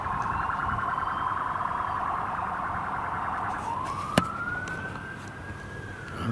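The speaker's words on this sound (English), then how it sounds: "It's not fireworks, it's sirens" Emergency vehicle sirens wail continuously outside at night, a steady oscillating tone that shifts to a rising sweep midway, with a sharp click near the end over distant background noise.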